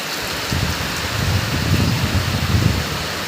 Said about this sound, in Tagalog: Pero yung ulan, malakas.